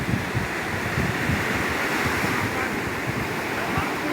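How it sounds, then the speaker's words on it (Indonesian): Surf crashes and rushes continuously in a broad, steady roar on Anyer Beach, Banten, with wind buffeting the microphone throughout. "Ombak yang memecah di pantai"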